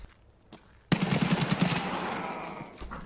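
Automatic gunfire in the Escape from Tarkov shooter game: after a quiet moment, a sudden loud burst of rapid shots erupts, followed by a dense, ringing volley that gradually tails off.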